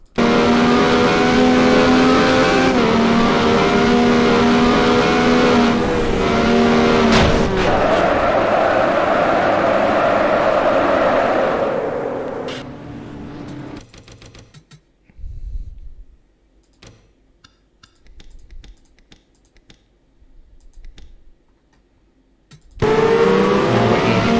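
Red Bull Formula 1 car in the NASCAR Racing 2003 sim, its engine screaming loud and steady at high revs, then cutting out to faint scattered clunks and noise before the roar suddenly returns.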